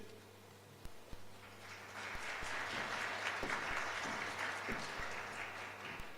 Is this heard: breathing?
no